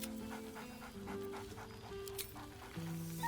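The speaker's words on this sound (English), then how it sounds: "He whines." In Baldur's Gate 3, a dog pants rhythmically and whines in short, high, wavering cries over a soft game background, moderately close, with no one talking.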